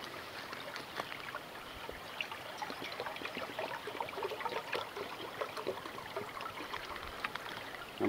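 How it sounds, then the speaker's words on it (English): Water pours and trickles steadily at an outdoor campfire cooking site during a steamed cheeseburger cook, a continuous splashing wash with no talking. "So let's get a little water."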